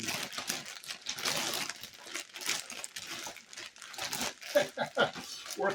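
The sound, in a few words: plastic bag being squeezed and crinkled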